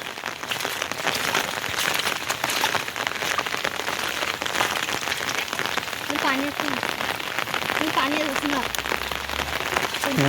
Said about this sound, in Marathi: पाऊस जोरदार लागलो आणि पाणी पण एक नंबर इलेला